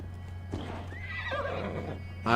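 Horse in Assassin's Creed Valhalla, heard as a close, clear whinny sweeping over a steady background hum, with hoofbeats clip-clopping beneath and a sharp burst at the very end.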